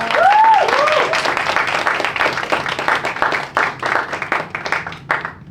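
An audience applauds warmly at a live multilingual stage show, with dense clapping, a rising cheer or whoop near the start, and the clapping thinning toward the end.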